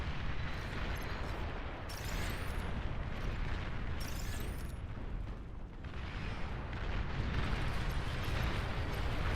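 An enemy commander explodes in the real-time strategy game Beyond All Reason, with heavy, dense booming blasts and rumbling artillery-like fire rolling continuously amid the clamor of a large battle.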